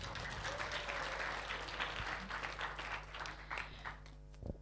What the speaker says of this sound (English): So everyone, please give round of applause.